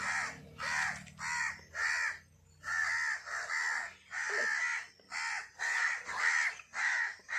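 Crows cawing near a church shrine, a long series of loud, harsh caws in an even rhythm, close by and heard alone.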